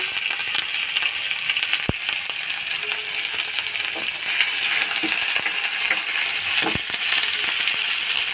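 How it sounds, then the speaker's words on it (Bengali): Ginger and green chilli sizzle steadily in hot oil in a wok, a continuous bright frying hiss with a few sharp metallic clinks of stirring near 2 and 7 seconds, no voices. "এবারে আদা আর কাঁচা লঙ্কা দিয়ে দিলাম"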